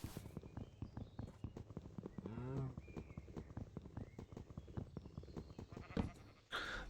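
Cattle lowing in the Minecraft RLCraft modpack, a single drawn-out moo near the middle standing out over a busy bed of game sounds and footsteps, with no talking.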